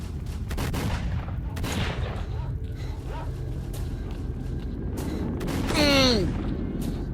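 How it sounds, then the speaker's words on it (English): Gunfire in the game S.T.A.L.K.E.R., a string of sharp shots and bursts cracking through a rumbling background, irregular and moderately loud, ending with a whistling, descending sound. "Wait, someone's shooting at us."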